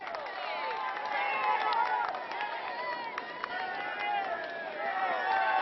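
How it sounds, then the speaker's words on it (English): A dense roadside crowd roars and cheers continuously in Bédoin on the climb of Mont Ventoux as riders pass during stage 15 of the 2013 Tour de France, with whistles and shouts throughout. "The crowd here in Bédoin is unbelievable"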